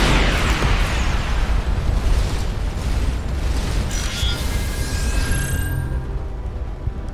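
A spaceship in Starcom: Unknown Space taking hits from an enemy beam weapon, heard as a continuous loud roaring, rumbling blast with crackling bursts and a few thin high tones near the end.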